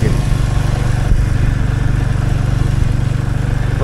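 A motorcycle engine drones steadily and close while the bike is ridden along a winding mountain road near Kalimpong, a continuous low, even throb with no pauses.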